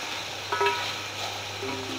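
Beef for nihari sizzles steadily in oil over low heat, a soft even fry with a light stir or clink partway through, close and alone.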